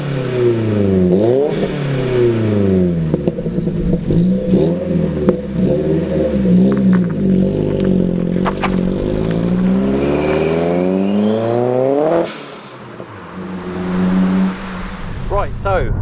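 Ford Focus RS Mk1 engine revving while driving, heard from inside the car with loud rising and falling revs through the gears before easing off near the end, and a voice talking over it.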